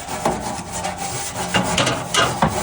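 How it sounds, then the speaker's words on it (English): An old grill brush scrapes the lid of a Weber gas grill in several close, gritty strokes with short pauses between them, loud and alone. "So I'll just take an old grill brush, scrape it off."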